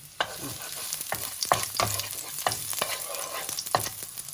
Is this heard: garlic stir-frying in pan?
yes